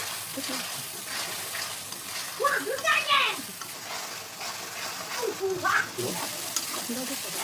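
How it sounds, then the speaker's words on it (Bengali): Tomato and spice paste of turmeric, coriander and cumin frying and being stirred in a pan for a katla fish curry, a steady close sizzle with a few louder scraping stirs. "এখন টমেটো কষিয়ে দিলাম, নেড়ে চেড়ে"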